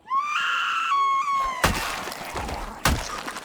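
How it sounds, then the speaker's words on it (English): A zombie in Project Zomboid gives a loud, rising, wailing scream. Two sharp crashing impacts follow, and noisy game sound continues underneath. "Was that the zombie? Did that zombie scream?"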